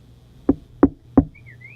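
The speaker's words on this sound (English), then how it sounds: "Oh, who's knocking on my door?" Three evenly spaced knocks on a door sound close and crisp against near silence, followed by a faint high whistle-like tone.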